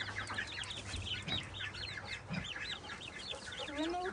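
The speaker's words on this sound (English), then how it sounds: "We've got bantams in here right now." Bantam chickens cluck and chirp in a brooder, a busy mix of soft clucks and peeps close by and continuing throughout, with a faint voice in the background.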